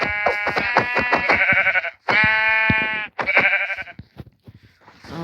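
Sheep bleat loudly and close by, several long wavering calls in a row with short gaps, then a fainter one near the end.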